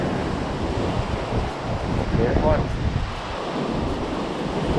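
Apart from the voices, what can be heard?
strong wind and waves at a seaside fishing pier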